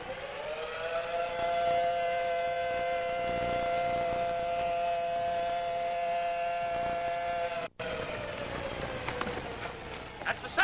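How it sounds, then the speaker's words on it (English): A loud, sustained rock quarry siren wails steadily for several seconds, then winds down as it fades, with faint background noise afterward. "That's the siren at the rock quarry."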